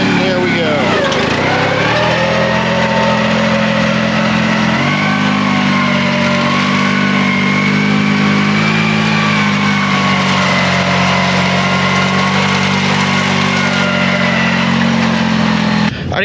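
A Cub Cadet gear-drive garden tractor engine runs steadily and loud throughout, its tone rising and settling as the clutch lets out and it pulls away at constant throttle.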